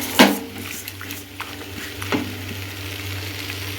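Vegetables sauté in a pan, a faint steady sizzle with a few sharp clinks of a stirring utensil against the pan. No one talks.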